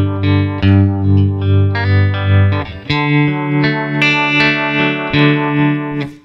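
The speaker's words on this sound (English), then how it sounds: "after the reverb, I went ahead and I put that trem on there" Electric guitar run through spring reverb and tremolo, sustained chords pulsing in a steady wavering rhythm, loud and close, then a run of picked notes ringing with reverb tails, with no voice.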